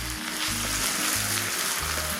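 Onions fry over a low flame in a pan for a Kerala beef roast, giving a close, steady sizzle with faint stirring and no talk.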